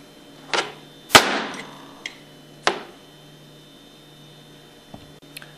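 A hammer taps a screwdriver blade against the steel casing of a seal on a Hypro roller pump, giving a few sharp metallic knocks with short ringing decays at uneven intervals, close by and without talk.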